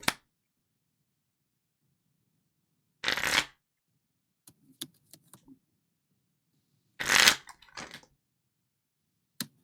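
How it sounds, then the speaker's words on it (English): Pokemon trading cards are riffle-shuffled into a deck in two loud, close bursts of rapid flutter, separated by quieter taps and soft card handling in a quiet room. "Shuffled into the deck, right?"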